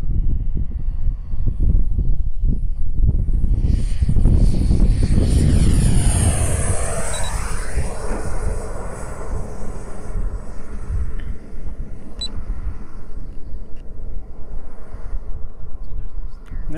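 A model jet aircraft, an Aviation Design Diamond on its maiden flight, roars loudly as it sweeps past overhead, then its whine fades into a steady distant drone.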